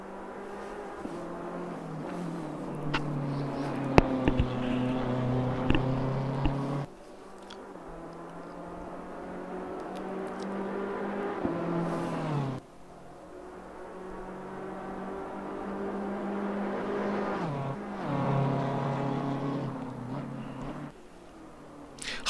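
A GT race car driven in the racing simulator Assetto Corsa Competizione, engine whining up through gears in long rising pulls with abrupt drops at shifts, steady and fairly loud with no talk.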